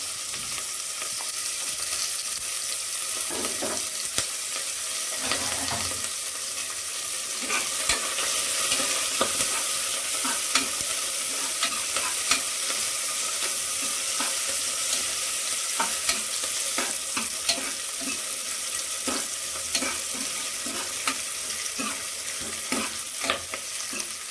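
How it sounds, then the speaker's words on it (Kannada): Onions fry in a pan for vegetable sambar with a constant close sizzle, broken by frequent stirring clinks and scrapes over about twenty-four seconds, with no voices. "ಈರುಳ್ಳಿ ಚೆನ್ನಾಗಿ ಫ್ರೈ ಆಗಬೇಕು"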